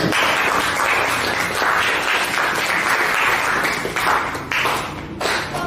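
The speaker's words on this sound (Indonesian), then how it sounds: "Baik, kita tepuk tangan." A group claps together after a student group presentation, a loud, dense burst of applause that carries on steadily, then thins and tapers with scattered final claps.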